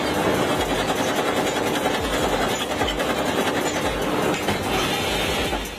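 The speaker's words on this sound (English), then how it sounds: "This machine produces sanding discs." Fully automated machine pressing out sanding discs from adhesive-backed sandpaper, a loud dense continuous rattle and clatter with a rhythmic mechanical churn, close and unbroken throughout.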